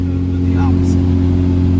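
Truck engine chugging steadily uphill in overdrive while towing a 7,000 pound load on a pintle hitch, a constant low droning rumble with strong steady hum, close and loud with a voice faintly over it.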